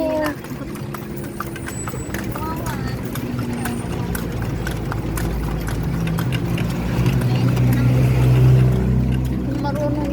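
Horse hooves clip-clop in a steady rhythm as a horse pulls a kalesa carriage along a street, mixed with passing motor traffic hum while riders chat in the foreground.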